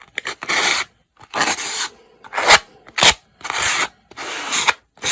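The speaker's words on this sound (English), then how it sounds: "but I can smooth it down with this Tim Holtz sanding tool." A Tim Holtz hand sanding tool smoothing the rough edge of a paper card, heard as a series of close, rasping scrubbing strokes in irregular bursts separated by short pauses.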